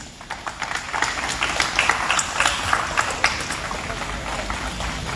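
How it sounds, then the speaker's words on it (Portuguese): Sustained applause from an audience at the opening ceremony of the 36th São Leopoldo Book Fair for its patroness, many hands clapping steadily and filling the hall for several seconds. "E uma salva de palmas para a nossa patronesse da Feira do Livro"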